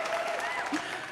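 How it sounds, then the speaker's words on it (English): Brief burst of audience applause welcoming two new podcast co-hosts, a dense hiss of clapping mixed with voices talking over it. "Round of applause."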